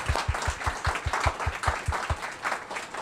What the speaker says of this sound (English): we're going to give him a big round of applause